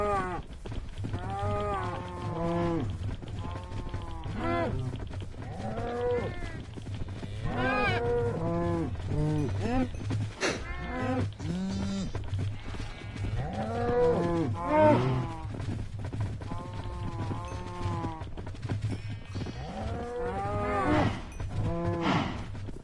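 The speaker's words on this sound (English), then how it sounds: "Gotta go feed the cows so that we can have more steak." Cattle mooing in Minecraft Bedrock Edition, repeated drawn-out moos from several cows at a farm pen, steady and fairly loud throughout with no talk over them.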